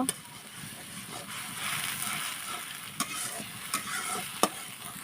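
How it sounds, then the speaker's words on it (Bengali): Spice paste with dried chili and cumin sizzles in hot oil for a snakehead fish curry as a spoon stirs it, a continuous close fry broken by a few sharp scrapes against the pan. "মশলাটা আমি ভালোভাবে এখন কষে নেব।"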